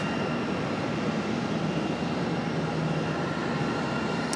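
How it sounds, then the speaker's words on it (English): Boeing 737 airliner landing on the center runway at Charlotte airport, a steady broad engine roar and rushing whoosh holding level throughout, moderately distant, with no talk. "this one is coming in center, 737"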